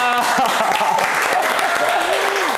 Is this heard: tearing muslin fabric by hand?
no